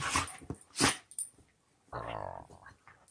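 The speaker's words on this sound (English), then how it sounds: "We got pups going at it." Two pet dogs, Vala and Lucy, scuffle indoors with a rough growl, a sharp bark-like burst and a longer snarling growl, close by with short pauses between outbursts.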